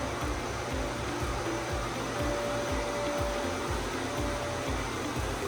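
A CDL smart maple sap concentrator machine runs with a steady, loud motor and pump whir, a constant broadband hiss over a low pulsing rumble, with no talking.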